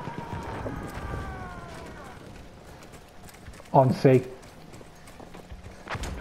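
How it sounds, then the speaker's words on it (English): A horse in the video game Battlefield 1, with a couple of loud, close hoofbeat thuds in quick succession mid-clip, an earlier whinny-like tone, and ongoing game noise with brief talk. "Horse!"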